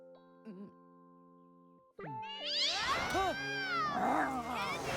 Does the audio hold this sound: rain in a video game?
no